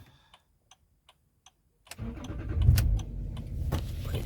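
A Range Rover L322 engine with engine faults is cranked and catches, preceded by a few faint ticks, then a loud rough rumble that swells and holds close by.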